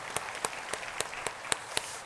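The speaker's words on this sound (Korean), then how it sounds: "우리 박수로 환영하겠습니다." A church congregation at a Sunday worship service claps to welcome new members, a series of distinct, rhythmic hand claps spaced about a quarter second apart over a soft hall ambience.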